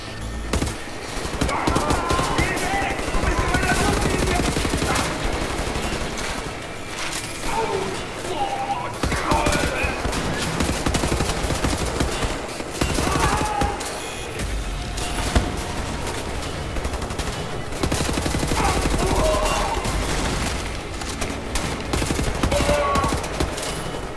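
Gunfire from Wolfenstein: The New Order rattles almost continuously in dense bursts and volleys, loud and close, with a voice talking over the shooting.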